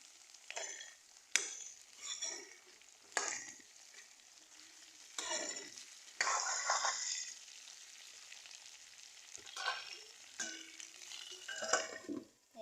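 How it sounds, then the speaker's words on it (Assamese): Potatoes, bottle gourd and other vegetables fry in a pan, with soft sizzling under repeated scraping and stirring strokes at close range, no talk. "এইখিনি এতিয়া ভাজি ল'ম"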